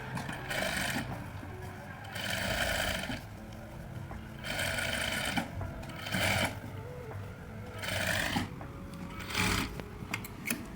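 Sewing machine stitching a 1.5-inch seam on katori blouse fabric, running in several steady whirring bursts separated by short pauses, close and fairly loud.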